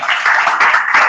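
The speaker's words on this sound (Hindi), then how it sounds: "जोरदार ताली उसके लिए, जोरदार ताली।" Classroom students clapping together in a burst of applause, steady dense clapping close by for about a second with no talk over it.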